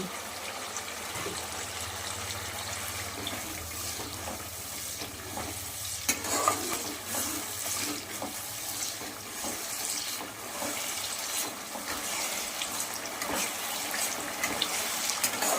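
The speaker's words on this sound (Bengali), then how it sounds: "আমি জল দিয়ে কষিয়ে নিচ্ছি।" Fish masala for a curd-style catla dish is stir-fried with a splash of water, a soft continuous hiss and bubbling under repeated stirring scrapes, with a brief louder clatter midway.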